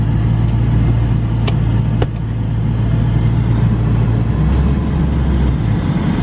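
A manual car's engine runs with a close, loud, steady low rumble as the car begins to pull away, with a couple of brief clicks early on and no talking.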